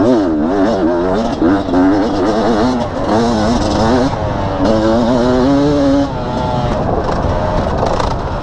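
A 2017 Beta Enduro RR 300 two-stroke dirt bike engine revs up and down repeatedly, its buzzing pitch rising and falling in close, loud sweeps.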